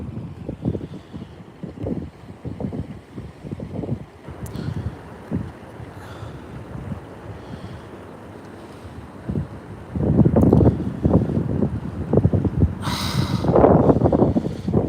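Wind buffets the microphone on a bass fishing boat out on open water, gusty low rumbles rising and falling throughout, growing stronger and harsher toward the end.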